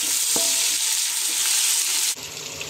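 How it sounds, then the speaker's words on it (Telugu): Coriander and mint are stirred into a sizzling biryani masala, a loud, close, continuous frying hiss with a light scrape that drops away abruptly near the end. "వేసుకున్నాక మంచిగా మిక్స్ చేసుకోవాలి"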